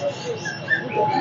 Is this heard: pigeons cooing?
yes